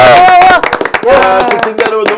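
Studio hosts clap and cheer to thank viewers, with sharp, rapid claps punctuating loud, excited voices close by.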